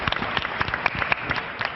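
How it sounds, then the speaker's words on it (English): Audience applause at a startup pitch competition, a dense crowd clapping with many overlapping hand claps. The clapping runs steadily at moderate loudness through the short stretch, with no speech over it. "a big round of applause for Thinkfuse"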